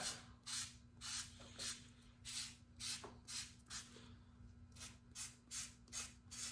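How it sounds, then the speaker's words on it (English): Steady rhythmic rubbing strokes of a sanding block shaping foam, close and fairly quiet, repeating about twice a second over a low hum. "you can shape them up a little bit just with a sanding block"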